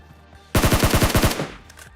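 A rapid burst of about nine loud, evenly spaced SLR rifle shots in a battle royale video game, fired close and alone, fading into quieter sounds afterward.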